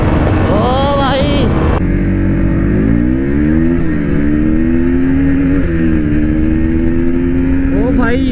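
A KTM Duke 250 and a KTM RC 200 motorcycle drag racing, with loud engines revving and droning steadily close by, pitch climbing and shifting through the gears, as a voice shouts excitedly over the noise.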